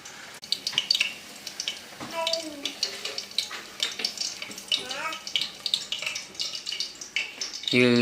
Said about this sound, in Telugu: ఎల్లిపాయలు వేస్తాను, ఎందుకంటే తర్వాత మనం పోపు వేయం కాబట్టి.